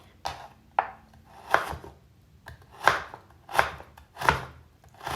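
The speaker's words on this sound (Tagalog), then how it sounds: "ganyan lamang po ang ginagawa kong paghihiwa sa ating ginger" Fresh ginger being sliced with a knife on a cutting board, several sharp, distinct chops at an uneven pace, close and clear with no voices.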